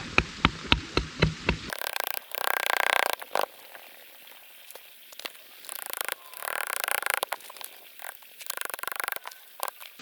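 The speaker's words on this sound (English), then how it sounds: "So I'm going to actually drive a little shim in right here." A hammer drives a small shim under a rock stair step being built outdoors: a quick run of about six sharp, close taps, followed by scraping and shuffling noises with more scattered knocks.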